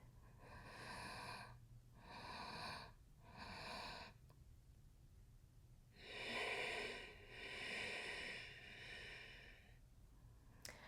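Close, steady three-part yogic breathing: a series of long, airy inhales and exhales that swell and fade in slow cycles, with a brief quiet pause midway and no talking.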